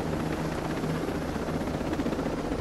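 Helicopter in the video game Ghost Recon Breakpoint, a steady rotor and engine drone holding level and fairly loud throughout, with no talk over it.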